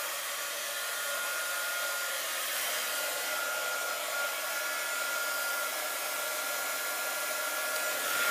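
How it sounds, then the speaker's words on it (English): A heat gun blows continuously over embossing powder on a leaf-themed card, a steady loud hissing whoosh with a faint whine that holds evenly throughout with no speech. "I'm going to get my heat gun out"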